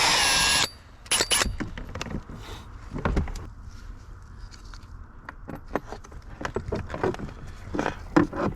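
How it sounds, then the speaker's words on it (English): A power drill bores pilot holes through a plastic panel on a Toyota Tacoma: one loud whirring burst at the start, then quieter short bursts with clicks and handling noises. "I'm going to go ahead and drill the 2 pilot holes"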